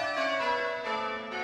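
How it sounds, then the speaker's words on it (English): Church bells rung by a team of bell ringers in change ringing, a dense wash of overlapping metallic tones with sustained ringing harmonics, heard fairly close and continuous. "Church bells convey many messages."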